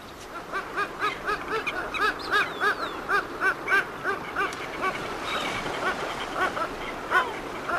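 Kelp geese on coastal rocks near kelp beds give a string of short, rhythmic honking calls, fairly close and moderately loud, repeating in quick bursts over a soft background.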